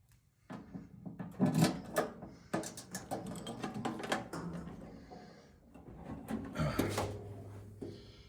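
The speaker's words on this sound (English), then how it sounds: "Door still opens." A wooden door is unlocked and pushed open, with a run of close clicks, knocks and rattles from the latch and frame rising and falling over several seconds, no talking.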